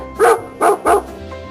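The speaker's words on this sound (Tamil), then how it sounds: "dog நாய்" A domestic dog barks three times in quick succession, loud and close, followed by a short pause with faint background.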